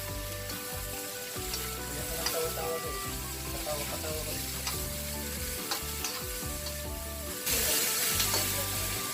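Chicken feet seasoned with black pepper frying in a pan, a continuous loud sizzle with scraping and clinking as they are stirred, over a steady background hum that rises slightly near the end.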